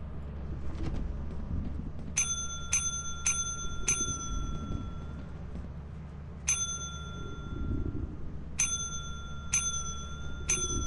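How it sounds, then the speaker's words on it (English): A service bell is struck at the Company counter in Lethal Company. There are about nine bright, clear dings in quick groups of four, with a pause between groups, over a low steady game hum. "let me go ring the bell"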